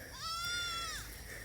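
A single goat's bleat, about a second long, wavering and nasal, heard at moderate distance over steady outdoor background noise.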